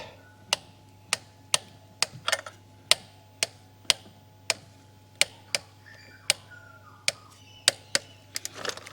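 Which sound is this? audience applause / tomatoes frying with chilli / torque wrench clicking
torque wrench clicking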